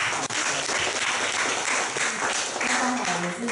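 An audience at a small meetup claps to welcome the next person, a short, dense burst of applause with voices mixed in.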